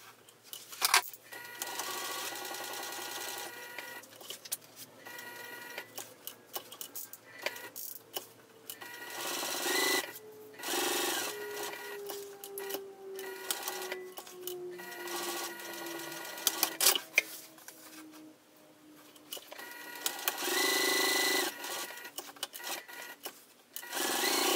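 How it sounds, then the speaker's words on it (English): A sewing machine stitches a rectangle through two fabric pieces placed right sides together for a wristlet, running in bursts with short pauses and back-stitching at start and stop, close and fairly quiet. "you're going to sew directly on the box you already drawn. So you're just going to sew a rectangle."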